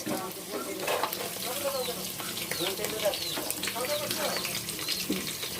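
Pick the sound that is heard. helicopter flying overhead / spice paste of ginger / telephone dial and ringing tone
spice paste of ginger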